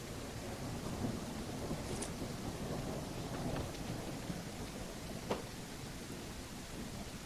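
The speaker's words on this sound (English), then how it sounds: "I don't know if I'll be able to use that because it's raining." Steady rain with rolling thunder in the survival video game No One Survived, a dense even wash of downpour with occasional soft cracks and rumbles underneath, continuous and fairly loud, with no voices.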